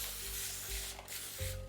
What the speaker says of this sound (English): I'm gonna spray that too.